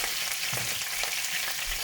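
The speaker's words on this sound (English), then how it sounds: "Sizzle, sizzle, sizzle." Oil sizzles and crackles steadily in a hot frying pan while making vegetarian pasta with rapini, a close, continuous hiss with a few soft stirring bumps.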